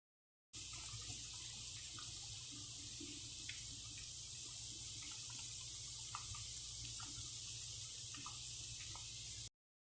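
Wheat flour diamond chips frying in oil over a medium flame, a steady, even bubbling hiss that runs unbroken throughout with faint crackles.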